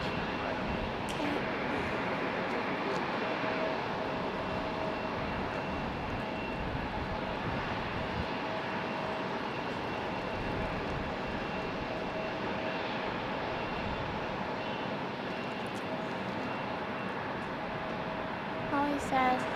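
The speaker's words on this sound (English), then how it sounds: "that takeoff was awesome. It's a really loud departure." An airplane takes off at Raleigh-Durham International Airport, heard from a plane-spotting spot nearby. Its jet roar is a steady broadband rumble that holds for the whole stretch at moderate distance, with no clear talking over it.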